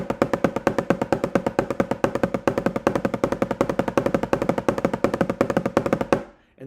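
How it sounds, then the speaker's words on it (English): Drumsticks play a fast double-stroke roll, a dense, even machine-gun-like stream of crisp hits that runs steadily for about six seconds and then stops abruptly, close and loud with no speech. "And that is what we call a double stroke."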